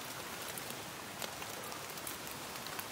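Steady rain falls on wet ground in a forest during a hunting trip for squirrels and birds in Laos or Thailand, a dense, even hiss of drops with scattered louder patters close by and no voices.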